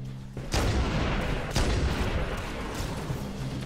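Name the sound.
grenade explosion and gunfire in the video game Halo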